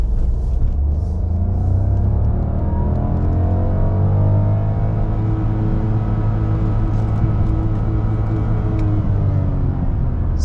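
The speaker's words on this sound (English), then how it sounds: "Let's see how fast first gear can go." A manual car accelerates hard in first gear, its engine droning loud and continuous with a steadily climbing pitch and heavy road rumble underneath, with no talking.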